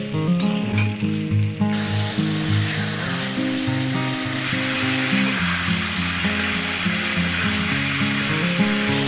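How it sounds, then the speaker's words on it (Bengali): Ginger, chilli, cumin and turmeric paste with a splash of water being fried for rohu fish curry, producing a steady close sizzle with rhythmic spatula scraping and stirring against the pan. "মশলাটা কষিয়ে নেব।"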